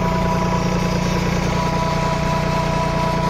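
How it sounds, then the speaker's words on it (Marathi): A Swaraj Target 630 tractor runs a Chetak gear-type PTO generator at 540 rpm, making a loud, continuous, even engine drone with a steady mechanical hum and no talk. "540 वरती आपण हा आर्मेचर चालवतोय।"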